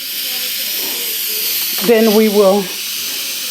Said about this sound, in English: after we release the steam